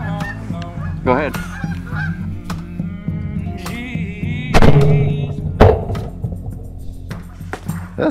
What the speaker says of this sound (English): That's a nice goose.